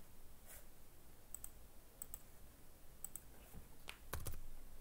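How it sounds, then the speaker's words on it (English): Keys on a computer keyboard are tapped in a few quiet, scattered clicks during CAD modelling work, with a short cluster of keystrokes near the end over faint background hiss. "Typing in 11."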